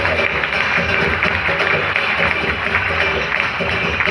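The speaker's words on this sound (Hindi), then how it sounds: "जोरदार तालियां अपने आप के लिए" Loud, sustained applause from a crowded hall audience, dense continuous clapping with crowd noise throughout.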